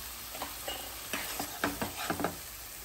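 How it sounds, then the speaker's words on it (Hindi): Chopped medium tomatoes sauté with salted chicken over a medium flame for chicken sukka. A soft, close sizzle runs under repeated spatula scrapes and stirs, and no one talks. "अब फ्लेम को हाई पे रख के भूनते जाइए टमाटर अच्छे से सॉफ्ट होने तक।"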